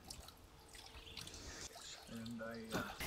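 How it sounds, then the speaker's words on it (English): Water dribbles from a bent pipe in a garden, a soft steady trickle heard faintly beneath people talking nearby. "it does this wonderful, relaxing, peaceful dribbling of water"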